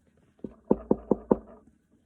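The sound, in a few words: knock on a front door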